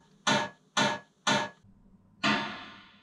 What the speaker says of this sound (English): I'm going to try and make it into a snare drum.